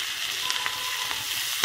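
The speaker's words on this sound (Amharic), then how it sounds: "በደንብ ነው የሚጠበሰው ክዝብራው በቂቤው።" Chopped coriander frying in butter for a chicken and greens dish, giving a soft, steady sizzle with faint crackles throughout and a sharper stir or pan noise right at the end; no talking.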